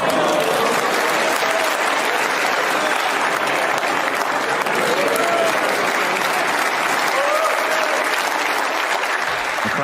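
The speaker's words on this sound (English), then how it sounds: "The crowd enjoyed that one." Snooker crowd at the 2023 English Open applauding a Ronnie O'Sullivan versus Si Jiahui shot: sustained, dense clapping from a large audience, steady and loud throughout with no pause.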